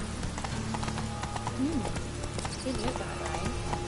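Roach, a horse in The Witcher game, plods along with steady clip-clopping hooves at a moderate distance, while someone speaks over the hoofbeats and a soft ambient bed sits beneath.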